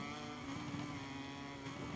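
A steady motorcycle engine drone from a racing video game at the Portimão circuit, continuous and even, fairly faint with no talk over it.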